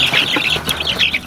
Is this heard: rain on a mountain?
no